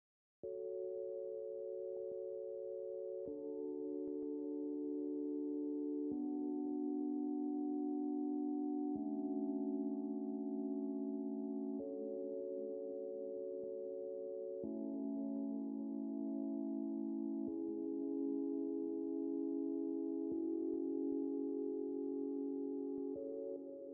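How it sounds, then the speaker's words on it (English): Smooth, sustained synth chords change every few seconds in a slow progression, soft pure tones with no percussion or voices. "After that I added that little chord pad progression."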